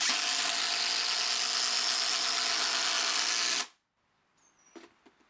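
Makita 40V TD002G and Hikoki impact drivers running side by side, a loud sustained whirring hammering drive that stops abruptly after about three and a half seconds, followed by near silence with a faint brief squeak.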